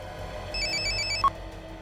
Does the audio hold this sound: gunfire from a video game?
no